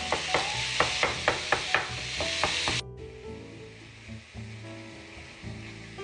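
Ground beef hits a pan of frying onions seasoned with paprika: a bright sizzle with rhythmic scraping stirs, then the frying drops to a quieter, steady crackle with occasional clinks, no talking.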